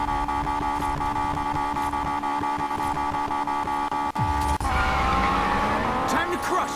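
Race cars in Need for Speed Payback roar through a continuous high-revving engine drone, with a sharp change near the end as tires squeal and skid, loud and close throughout.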